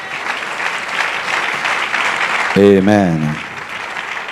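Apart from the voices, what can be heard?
congregation applauding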